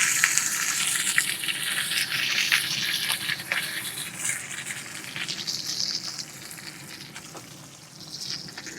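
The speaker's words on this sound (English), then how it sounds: "We'll drop that in the hot pan." A rested steak hits a hot pan and sears, giving a steady, loud hissing sizzle that holds throughout with faint crackles and spits and no talk.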